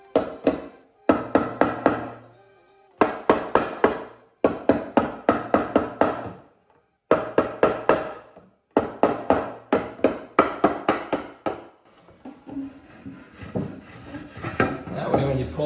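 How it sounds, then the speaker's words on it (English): Repeated bursts of hammer blows drive a wooden tenon into its mortise on a side table joint, the tenon cheeks marked with pencil lead, coming in clustered rhythmic taps with short pauses, close and sharp, no talking. "hammer that on there until it doesn't want to go freely."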